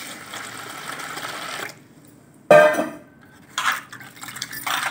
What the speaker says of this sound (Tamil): தண்ணி ஊற்றி நம்ம நல்லா அதை க்ளீன் பண்ணி எடுத்துக்கலாம்.